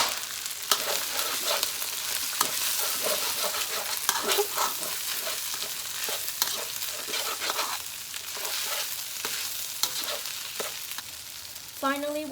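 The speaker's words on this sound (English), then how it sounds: "add a little more oil. And we're going to add in our egg in that space." An egg fries in oil in a pan for fried rice, giving a steady close sizzle with faint stirring and scraping that runs unbroken and alone.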